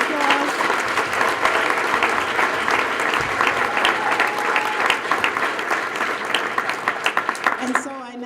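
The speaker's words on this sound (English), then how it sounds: "Can we give them all a round of applause?" A banquet audience at an engineering awards dinner breaks into sustained, dense applause lasting several seconds, close and steady, before it thins and a voice begins speaking at the very end.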